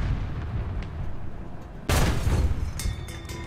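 A tank cannon fires in War Thunder, a single sharp, loud blast cutting in over steady low battle rumble, followed by a brief decaying roar.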